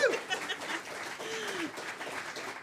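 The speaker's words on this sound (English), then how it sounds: "Let's have a round of applause for everyone organizing this Tionól" An audience at the St Louis Tionól 2022, a traditional Irish music gathering, applauds the organizers. The clapping is moderate and diffuse, with a brief vocal sound or chuckle at the start.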